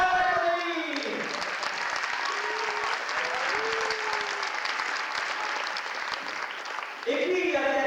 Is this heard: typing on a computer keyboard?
no